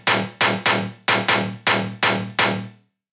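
A Serum metallic stab bass run through Logic's Fat FX distortion: eight sharp, gritty synth stabs in a syncopated rhythm, each with a quick decaying tail, loud and close with no talking.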